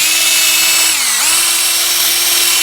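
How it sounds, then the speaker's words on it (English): A 3/8 inch drill driver spins a wooden dowel for sanding, a steady high motor whine held close and loud, dipping briefly in pitch under load before recovering, with no talk. "So what I did was chuck it into my 3/8 inch drill driver"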